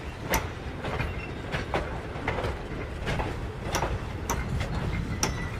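A steam-hauled passenger train on the Cape Town to Elgin line rolls back along the rails, with a steady rumble and regular clicks and clacks of wheels crossing rail joints, fairly close and continuous.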